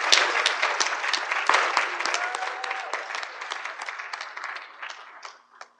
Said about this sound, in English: Can we give those ladies another round of applause?